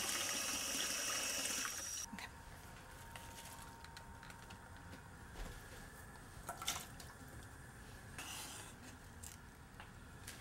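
Water pours into a pot of lentils, a loud steady rush for the first two seconds that then drops to a quieter trickle and gurgle with a few small clinks, no voices.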